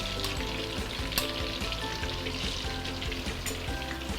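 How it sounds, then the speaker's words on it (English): Meatballs for a braised meatball stew frying in hot oil in a pot, a steady close crackling sizzle with dense bubbling pops throughout and no talking. "So I'm going to let it fry for another maybe 2-3 minutes."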